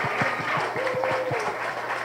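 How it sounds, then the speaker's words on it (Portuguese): An audience applauds Bento at a panel on racial identity, a dense, fairly loud wash of clapping with a brief whistle-like tone rising through the middle. "Palmas pra Bento, merece"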